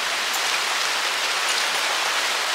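Steady, even rain falls on a surface close by, a dense hiss that holds without a break and with no voices over it.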